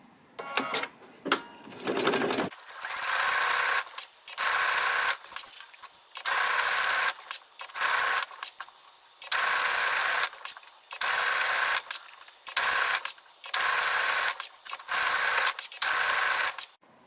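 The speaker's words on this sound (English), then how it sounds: "The next step is to stitch a 1/4 inch seam along one of the long edges" A sewing machine stitching a quarter-inch seam along a long fabric edge, its whirring motor running in repeated bursts of one to two seconds separated by short pauses, close and steady, after a few clicks at the start.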